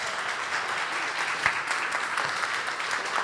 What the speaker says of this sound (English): Can I get a round of applause first?